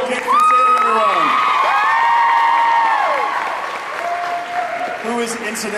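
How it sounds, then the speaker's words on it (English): Audience at an Otakon 2011 convention Q&A panel breaks into loud, sustained applause and cheering with whoops, after a shouted voice at the start and more voices near the end. "Big round of applause for the Kick Crusader,"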